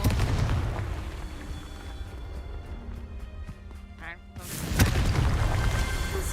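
Confringo fire spell explosion in the video game Hogwarts Legacy, a sudden loud booming burst that hits after a quieter stretch of game sounds and rings out to the end.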